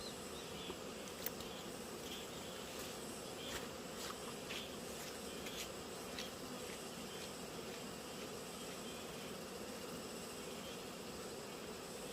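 Steady insect buzzing fills the air, a continuous drone of many hornets with a few brief louder passes, no voices.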